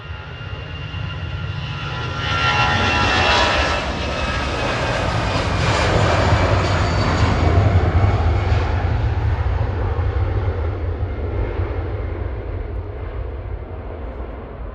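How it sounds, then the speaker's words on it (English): EasyJet airliner departing Manchester Airport for Barcelona on a night takeoff, a loud sustained jet engine roar that swells and rolls past, then slowly fades toward the end. "Heading off to Barcelona now, EasyJet 2001"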